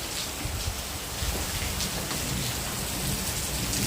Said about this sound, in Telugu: చూసారు కదండి వర్షం మామూలుగా పడట్లేదు